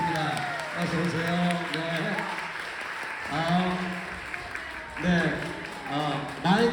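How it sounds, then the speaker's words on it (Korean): An audience at a book talk claps in welcome as the author is introduced, the applause a continuous background wash beneath someone speaking loudly over it. "여러분 함께 박수 보내주시고 받겠습니다."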